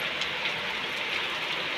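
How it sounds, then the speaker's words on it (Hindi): Heavy early-morning rain pours down on a rooftop, a dense continuous hiss of falling water with no talk, steady and fairly close. "और ये देखिए कितनी तेज़ बारिश हो रही है"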